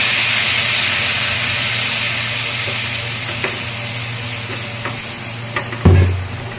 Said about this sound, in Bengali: এবার দিয়ে নেব জল।